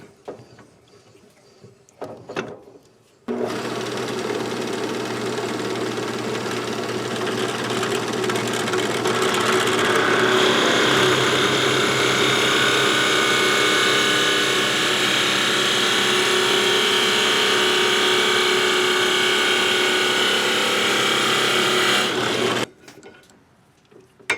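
A drill bores out the bowl of a handmade wooden pipe, a loud, steady whine and grind held for about twenty seconds, with quieter handling noises just before and after it.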